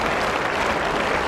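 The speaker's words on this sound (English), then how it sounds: "End of the over, applause for Terry Alderman." Spectators at a 1989 England versus Australia Test cricket match applaud at the end of an over, a brief, even wash of clapping heard from a distance, with no voices over it.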